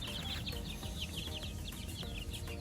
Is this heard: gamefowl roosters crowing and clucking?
yes